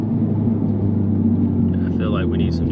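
An E85-tuned car accelerating in second gear, heard from inside as a steady low engine drone with a brief rising whine near the end, fairly close and continuous.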